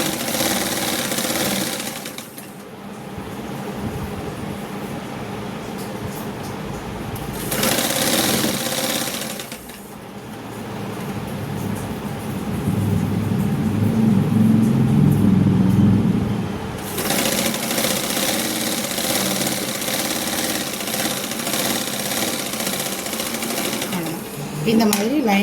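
Sewing machine stitching the lining of a blouse, running in several long bursts of steady mechanical whirring with short pauses between them, close and loud, while someone talks throughout.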